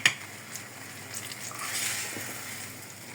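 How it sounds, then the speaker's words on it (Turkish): Persimmon frying in hot oil gives a steady, fairly quiet sizzling hiss with scattered spitting pops as the oil splatters, rising slightly midway. "Hep yağ sıkıyor Her yer yağ oldu arkadaşlar."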